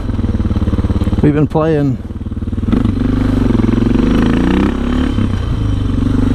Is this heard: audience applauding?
no